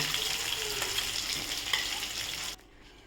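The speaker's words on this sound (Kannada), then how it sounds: "ಮಾವಿನಕಾಯಿ ಪಲ್ಪನ್ನು ಇದಕ್ಕೆ ಸೇರಿಸುವುದು ಸೇರಿಸಿ ಒಂದು ನಿಮಿಷಗಳ ಕಾಲ ಇದನ್ನು ಮಿಕ್ಸ್ ಮಾಡುವುದು" Raw mango pulp stirred in a hot pan for mandanagojju, a steady loud sizzle with scraping stir sounds that drops abruptly quieter near the end.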